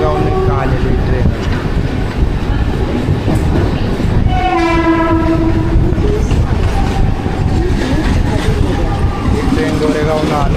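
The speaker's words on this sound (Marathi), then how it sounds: "जे पुढून जे ट्रेन आलेली आहे ती गोरेगावहून लाईन ट्रेन आलेली." A Mumbai local train arriving from Goregaon: a loud continuous rumble and rail clatter with a long horn blast midway and further horn tones, heard from up close with no speech.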